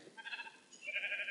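Sheep in Minecraft, a purple one, bleating in two drawn-out nasal calls, moderately loud and close, with no voices over them.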